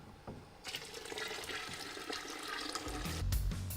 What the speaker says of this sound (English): it's time to top off with water so that we can create our boil